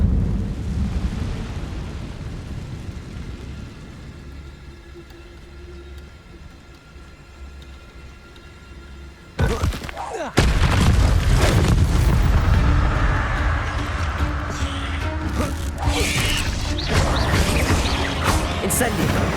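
An Incendio fire spell blast from Hogwarts Legacy erupts midway as a loud sudden boom, then gives way to a sustained roaring, crackling rush of flame over a dense game soundscape, after a quieter rumbling stretch.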